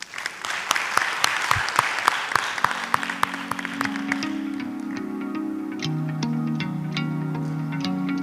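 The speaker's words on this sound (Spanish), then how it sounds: "Los recibimos con un aplauso." Audience applause welcoming speakers at a medical conference session on chronic myeloid leukemia treatment, steady clapping that thins out as sustained musical tones rise underneath, with a reverberant hall sound.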